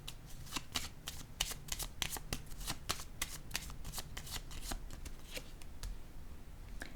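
Tarot cards being shuffled by hand in quick, crisp riffling bursts, close and fairly quiet, repeating steadily without talk.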